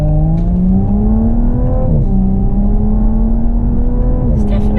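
A 2017 Audi S4 estate accelerates hard, its engine note climbing steadily in pitch with a brief dip at a gear change around midway, loud and continuous from inside the car.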